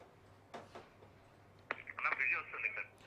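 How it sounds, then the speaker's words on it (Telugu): Telephone line connecting during a live TV broadcast, with soft clicks and brief line tones under quiet background, then a louder burst of connection noise and a faint voice coming through near the end. "కళ్యాణ్ గారు కూడా ఫోన్ కలిపేటువంటి ప్రయత్నం చేస్తున్నాం."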